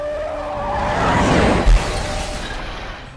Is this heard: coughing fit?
no